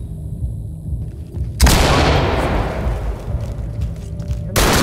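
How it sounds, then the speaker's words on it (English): A flashbang grenade goes off in Ready or Not with a sudden sharp, loud blast after a quiet lead-in, its bright crack decaying into a long ringing wash, followed by another abrupt burst near the end. "Toss a flashbang"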